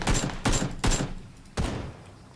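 Four spaced, heavy gunshots ring out in PUBG, each a sharp crack trailing off into a decaying echo, fairly loud and fired at irregular intervals with no talking.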